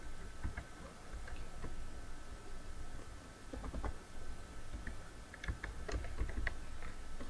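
A computer keyboard clicks in soft, irregular bursts of keystrokes, faint and close, over a low steady hum with no talking.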